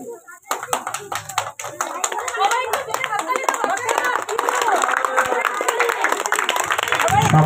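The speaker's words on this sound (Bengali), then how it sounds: "সবাই জোরে হাততালি দিবে করতালির মাধ্যমে" Children and adults at a Children's Day gathering held by a citizens' forum in Mahishadal clap their hands, a steady burst of applause that swells and continues under scattered voices and chatter.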